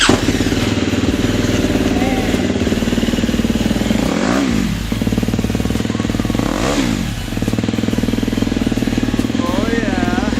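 A 2018 KTM 250 SX-F four-stroke dirt bike engine runs loud and close after its first startup, with a raspy idle broken by two or three sharp revs rising and falling.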